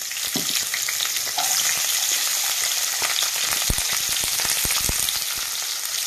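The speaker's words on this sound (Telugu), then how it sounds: "టేబుల్ స్పూన్ ఆయిల్ వేస్తున్నానండి." Oil sizzles steadily in a hot pan on a stove, a continuous bright frying hiss with a few sharp crackles and pops scattered through, close and fairly loud with no talking.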